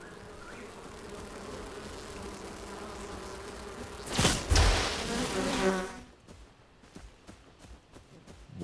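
In the video game Enshrouded, bees give off a close buzzing drone, broken midway by a loud impact burst, followed by quieter clicking game sounds with the buzz faded away.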